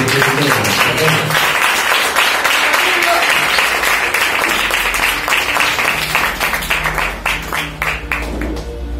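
A church congregation claps steadily through a worship service, the sharp claps dense and sustained at moderate level, while a voice speaks over them.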